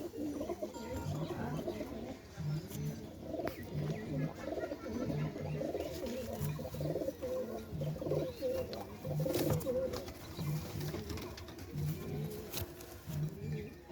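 Giribaz pigeons coo in repeated low, rhythmic phrases throughout, a steady soft pulse from several birds close by.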